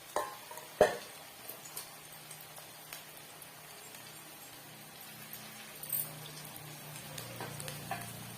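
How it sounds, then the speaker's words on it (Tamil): Semolina and rice flour snack pieces frying in oil over medium heat, a soft low sizzle with a sharp clink of a utensil early on and occasional light knocks, close and quiet. "ஒவ்வொரு பீஸுக்கெல்லாம் எடுத்து நம்ம எண்ணெயில் போட்டு விட்டுக்கலாம்"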